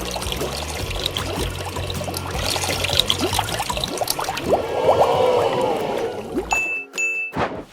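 A toy LEGO water tanker truck sucks water from a bowl through a plastic tube into a plastic bottle, giving close gurgling, trickling and bubbling noises with a few small clicks near the end.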